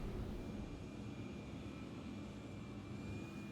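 Spaceship landing in Star Citizen: a steady, low engine hum and airy whine, constant and moderately faint, with no other sounds.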